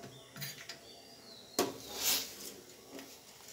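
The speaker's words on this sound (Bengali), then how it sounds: "দিয়ে একটু আবার নাড়াচাড়া করে নেব" Lachha semai is stirred in a pan, giving a few quiet scrapes and light metallic clinks, with one brief louder knock midway and no voices.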